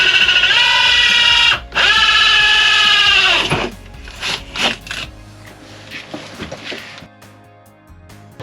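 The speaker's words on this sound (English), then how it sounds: "So I'm gonna have to drill this out from the inside too" A power drill boring through a renovated motorhome wall for a Starlink cable, two loud steady whirring bursts with a short pause between them, followed by clicks, knocks and handling noises as the drilling stops.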